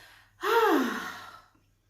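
One deep, audible breath drawn in and released, a single breathy gasp-like sigh lasting about a second against near silence.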